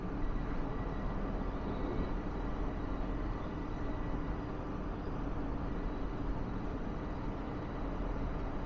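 The terminal link light rail at Toronto Pearson International Airport runs between terminals, a steady low rumble and hum of the moving car heard from inside, continuous and moderately loud, with no speech.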